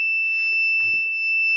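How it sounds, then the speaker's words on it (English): Safety buzzer alarm on a smart solar-powered lawn mower, sounding a steady, loud high-pitched electronic tone throughout, with a few faint bumps and clicks underneath and no talking. "as you can see here, the buzzer is on and the red LED is on."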